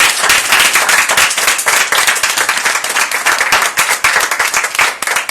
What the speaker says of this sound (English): Come on, give me a round of applause